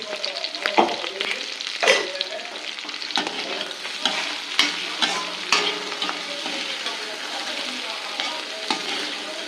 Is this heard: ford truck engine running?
no